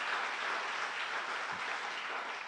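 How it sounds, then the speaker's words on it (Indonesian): Applause from a church congregation during a Sunday worship service in Batam, a steady dense wash of many hands clapping that holds throughout with no talk over it. "Beri tepuk tangan lagi untuk Tuhan kita."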